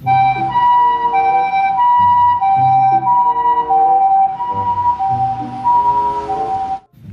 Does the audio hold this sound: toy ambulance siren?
yes